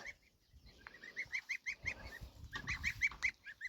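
Young farmyard goslings honk and peep in quick repeated calls, close by, several birds calling in bursts with short pauses between.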